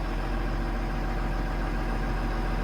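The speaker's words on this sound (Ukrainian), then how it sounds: "Гарний тракторець, по гроші, подивіться, як плавненько працює." A steady, even tractor engine idle with a low constant rumble and slight vibration, running smoothly without changes in pitch.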